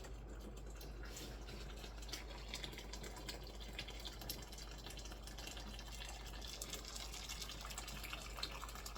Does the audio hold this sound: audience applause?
no